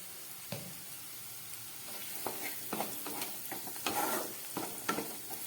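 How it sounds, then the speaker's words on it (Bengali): Onion stalks frying in oil with salt and turmeric in a pan for a fish-roe curry: a soft continuous sizzle with scattered clicks and scrapes from stirring, close by and moderately quiet. "আর একটু ভাজা হোক, তারপরে এটাকে নামিয়ে নেব।"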